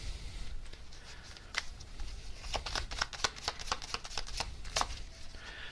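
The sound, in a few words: tarot cards being shuffled and drawn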